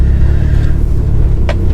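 Cammed Mitsubishi Evo 5 with a tuned engine of about 518 bhp idling, a deep loud exhaust growl with an uneven lumpy rumble, close and steady.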